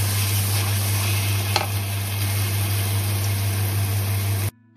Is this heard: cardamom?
yes